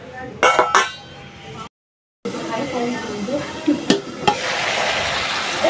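Vegetable stems being stirred and fried in a pan, giving a steady sizzle with scraping stir strokes and a brief dropout partway through, with some talk in the background.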